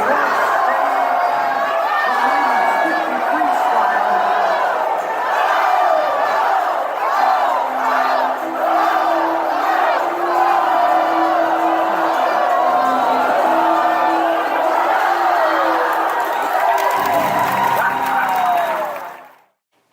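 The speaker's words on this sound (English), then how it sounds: "But now it's time to do our roller coaster cheer." Children at a virtual Bible camp shout a roller coaster cheer together, with rising and falling whoops and screams that carry on loudly for about eighteen seconds before cutting off abruptly.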